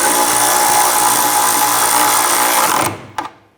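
Power tool whirring continuously at close range while snugging down rear sway bar bolts on a 2006-2013 Chevrolet Impala, a loud steady motor whine that stops abruptly near the end, followed by a short clank.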